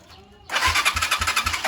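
A Motorstar 125 motorcycle engine cranks on its electric starter after a quiet moment, then fires and settles into a close, loud, rhythmic idle with steady pulsing beats.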